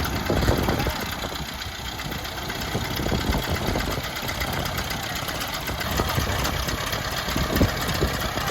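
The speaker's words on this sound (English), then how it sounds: "Listen to those engines." Hundred-year-old race car engines rumble and clatter steadily throughout at a race, a loud, continuous mechanical drone with uneven knocking.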